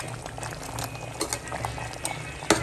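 Mutton korma gravy boils hard over high heat, a steady close bubbling with small pops and one sharper clink near the end.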